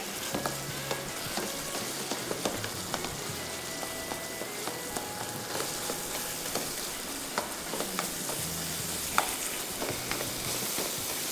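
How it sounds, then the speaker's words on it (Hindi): Fish pieces sizzle in a pan while being broken apart and stirred, a continuous close frying hiss with rhythmic scraping and tapping of the spatula, no talking. "ये मछली को तोड़ते गए, साथ साथ बस तोड़ते जाएं और मिक्स करते जाएं।"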